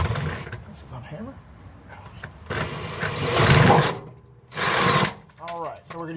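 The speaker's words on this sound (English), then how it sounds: "we're going to go ahead and drill it all the way through" A hammer drill on hammer mode revs up in a couple of loud bursts, grinding through material on a Jeep Wrangler, with someone speaking between and over the runs.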